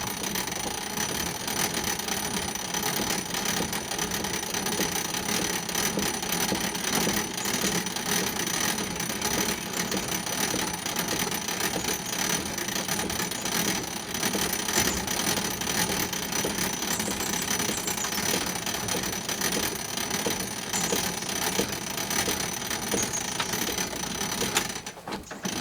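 Hand crank raising the roof of an older Coleman tent trailer, a steady close mechanical whirring and ratcheting that runs on without pause.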